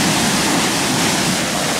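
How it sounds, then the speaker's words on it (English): Lake water rushing down an irrigation ditch in Spain, a loud continuous broadband roar of flowing water with no let-up over a couple of seconds. "it looks like the water running out of the lake down this irrigation ditch here."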